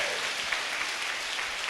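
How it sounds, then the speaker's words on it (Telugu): A church congregation claps loudly and steadily in praise, a dense continuous wash of applause with no pauses. "గట్టిగా చప్పట్లు కొట్టి ప్రభువుని స్తుతించాడు"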